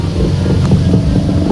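Strong wind gusts buffet the microphone in a continuous low roar outdoors as a typhoon moves away, steady and loud with no talking.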